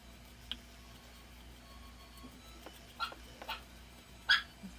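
A dog barks faintly a few times in the distance, short scattered yips over a quiet background hum.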